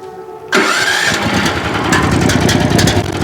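A Motor Sich MB-16E walk-behind tractor engine fires up abruptly after a moment of quiet, catching and settling into a loud, steady running roar close by with no talk over it.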